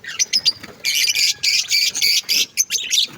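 A flock of farm-house birds squawks and chirps in a rapid, dense chatter, loud and close, the calls tumbling over one another without a break.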